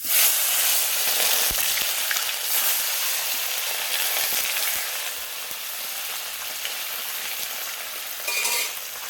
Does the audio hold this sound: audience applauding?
no